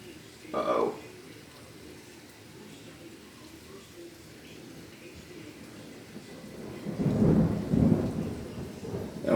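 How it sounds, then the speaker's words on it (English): Thunder rumbling in a backyard during a thunderstorm with rain, a brief crack near the start then a long, loud low rumble building toward the end over steady rainfall. "That was a late thunder."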